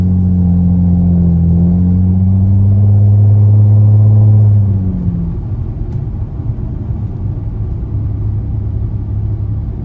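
Nissan Maxima engine droning loudly at steady speed, then easing off after about five seconds into a lower rumbling road noise.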